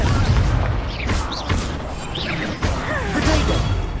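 Fiery Confringo spell blasts in the Hogwarts Legacy video game: several sharp, booming bursts with whooshing tails, spaced over a dense, continuous layer of game effects.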